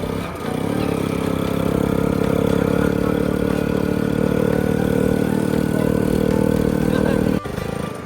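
A 2003 Passion motorcycle runs steadily nearby with a loud, continuous engine drone and mechanical clatter that holds for about seven seconds before a brief dip near the end.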